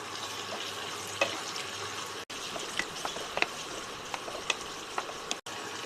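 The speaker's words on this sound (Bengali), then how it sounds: "এবার টমেটোটাকে পেঁয়াজের সাথে হালকা ভেজে নেব" Chopped tomatoes fry with onion in a pan for an okra dish, giving a steady low sizzle with scattered small crackles and stirring clicks and no one talking.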